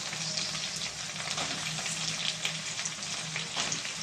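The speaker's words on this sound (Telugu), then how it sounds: "ఇప్పుడు దీంట్లో మనం కట్ చేసుకున్న వంకాయ ముక్కలు వేసేద్దాం ఫ్రెండ్స్" Cut eggplant pieces frying in a pan with softened onions, a continuous moderate sizzle with a faint bubbling crackle and occasional light stirring, steady for a few seconds without speech.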